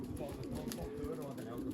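Pigeons coo softly near a loft as racing birds come home, low gentle cooing that sits under nearby conversation and background noise.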